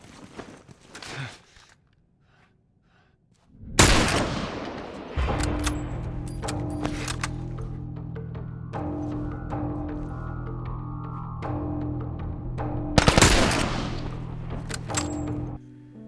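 Gunfire from the revolver and sniper rifle in The Last of Us: a few loud, heavy shots ring out sharply, separated by stretches of quieter in-game ambience, footsteps and a low background tone.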